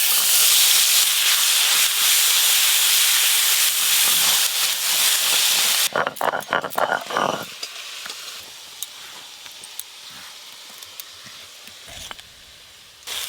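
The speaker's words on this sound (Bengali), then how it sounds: "পেঁয়াজ আর রসুন বাটা ভালো করে ভেজে নিয়েছি" Onion and garlic paste frying in mustard oil with black cumin, a loud continuous sizzle that breaks into stirring scrapes and clatters of a spatula against the pan, then quieter intermittent sizzling and knocks.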